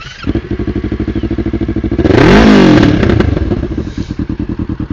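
A motorcycle engine idles with a loud, rapid, steady chug, then revs up in a swelling roar around the middle and settles back to idle, all close to the listener with no talking.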